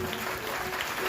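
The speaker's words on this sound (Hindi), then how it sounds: "एक बार जोरदार ताली बजाएंगे" A church congregation claps together during a Hindi-language Christian sermon by a pastor, a brief burst of dense, steady applause filling the hall.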